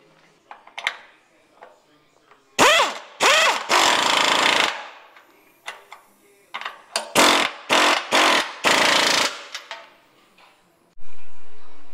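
An impact wrench hammers on the frame of a Chevy C10 pickup in the garage, firing in several loud close bursts of rattling blows separated by pauses, with smaller clanks and tool handling sounds in between.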